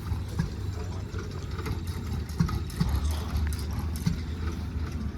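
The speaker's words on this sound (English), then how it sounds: "D19 Series 1 with a turbocharged engine." A turbocharged D19 Series 1 tractor engine runs at an outdoor gathering, giving a steady low rumbling drone with faint knocks and background clatter, fairly distant and unbroken throughout.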